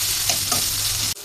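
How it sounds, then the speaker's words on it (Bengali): Garlic, ginger and cumin paste sizzles steadily in hot oil in a pan, with a couple of stirring scrapes, then cuts off abruptly. "এই পর্যায়ে রসুন বাটা আদা বাটা দিয়ে দিলাম, সামান্য একটু জিরা বাটা। এটা হালকা ভাজলাম"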